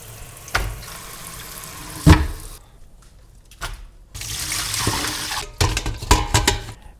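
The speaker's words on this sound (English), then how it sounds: "So now I will wash it and then I will start making the juice." Celery stalks washed under a running kitchen tap, with water splashing and gushing unevenly close by, broken by knocks and handling thumps as the stalks are moved about, and no voices.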